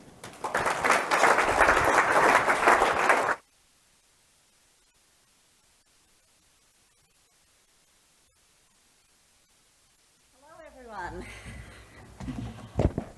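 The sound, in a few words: audience applause welcoming a speaker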